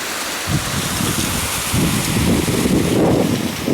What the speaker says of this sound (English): You can see the water rushing right there.